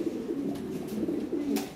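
Lahori Sirazi pigeons coo softly and continuously at close range, a low murmuring rhythm of overlapping calls with no talk.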